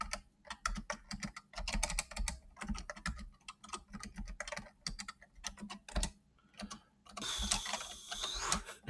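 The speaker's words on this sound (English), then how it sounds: "I should program more with this keyboard." Rapid, uneven clacking of keys on a computer keyboard continues throughout while someone programs, with brief pauses and a denser, louder burst of typing near the end.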